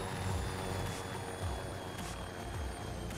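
A video game helicopter in flight gives a steady, continuous low rotor rumble with rhythmic thumping pulses, close and fairly loud, alone without any talk.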